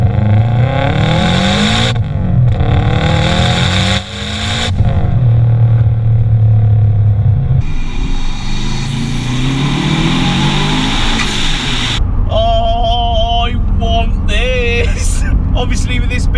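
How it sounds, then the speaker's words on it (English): A Subaru Impreza P1, a lightweight modified car of about 1200 kg, accelerates hard in third gear, heard from inside. The engine note climbs loudly through rising sweeps with a brief gear-change dip, and excited talk runs over it. "So, a little third gear pull for us."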